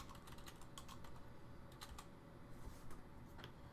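Quiet, steady clicking of keys on a computer keyboard, a run of light rapid keystrokes with no voices over it.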